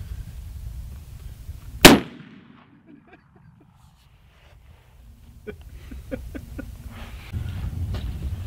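A single sharp, loud gunshot from a 50 caliber gun rings out during a Montana mule deer hunt, followed by a decaying echo, near silence, then faint outdoor rustling and soft clicks.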